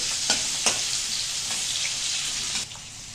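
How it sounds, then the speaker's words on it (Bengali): Potatoes frying in a pan with cumin tempering, a loud continuous sizzle broken by a few sharp stirring scrapes, the hiss easing near the end. "জিরে ফোড়নে দিলাম। ওই আলু দিয়ে দেওয়া হয়েছে।"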